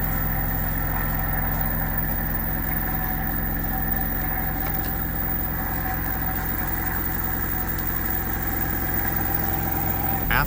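A magnetic switching motor runs at 52 volts, about 1302 RPM, giving a steady, loud, even hum with a fine rapid pulsing texture that holds unchanged throughout.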